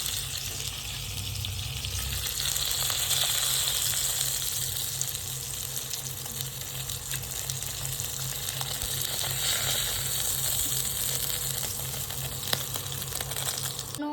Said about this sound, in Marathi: आपण आता सुरमई मासा तळत आहोत